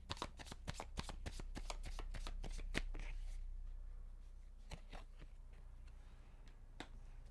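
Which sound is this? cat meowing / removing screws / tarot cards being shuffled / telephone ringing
tarot cards being shuffled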